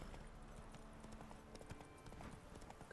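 Faint, steady clip-clop of a horse's hooves trotting in a video game, an even rhythmic patter that runs for a few seconds with no talk.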